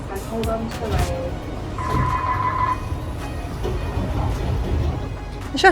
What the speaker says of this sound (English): This is the free shuttle that connects them.